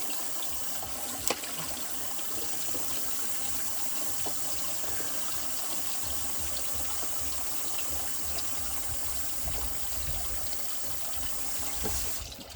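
Water runs steadily through a backyard sluice box used for gold sluicing, a continuous gushing, splashing flow at moderate distance that holds even throughout, with a couple of small knocks and no talking.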